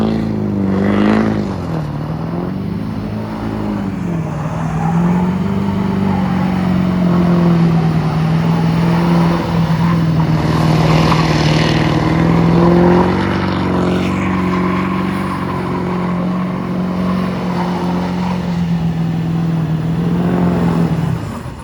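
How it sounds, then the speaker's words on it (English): A 2001-2010 GM truck drives in circles, its engine droning steadily and rising and falling slightly in pitch as it works, loud and close throughout with no speech. "I may have driven it in a few circles or two."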